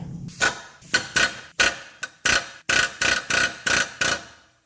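Rapid bursts of an air hammer pounding a 2014 Kia Rondo lower ball joint, about ten sharp repeated hits in quick succession with brief pauses, loud and close.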